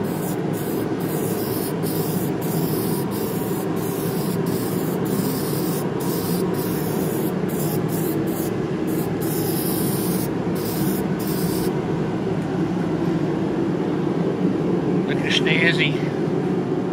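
Aerosol can spray paint hisses steadily as chimney parts are coated black outdoors. A broad low rumble runs under the spraying throughout.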